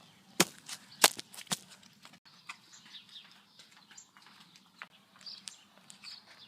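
Firecrackers going off in water, three sharp loud bangs in quick succession followed by scattered smaller pops and splashy crackles fading out, with outdoor background and a low steady hum.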